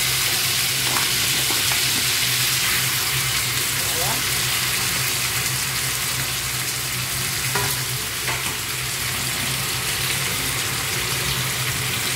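Strips of pork sizzle loudly in butter in a frying pan, a dense continuous crackle with occasional scrapes of stirring and faint water sounds in the background.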